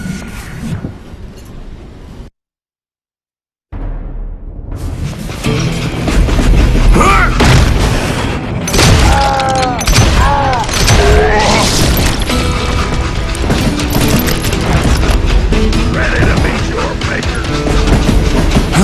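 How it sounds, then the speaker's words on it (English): Heavy gunfire and booms in a train robbery shootout in the Western video game Call of Juarez: Gunslinger, dense and loud over a rumbling moving train, with a brief silent gap early and shouting voices. "Bullets were flying at me from every which way."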